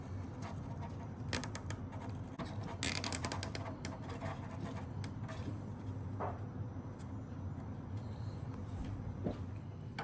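Fasteners are tightened down with a ratcheting tool while building a 49-inch Extra NG model airplane, giving a series of close, quick clicking ratchet bursts over a low steady background hum.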